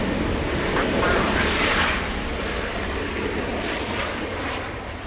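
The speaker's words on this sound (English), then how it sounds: "Joshua, can you see the 747 making the left turn on taxiway Lima?" A Boeing 747 taxis at LAX, its jet engines producing a broad, steady roar that swells slightly then eases, heard from a distance with a faint hiss over the rumble.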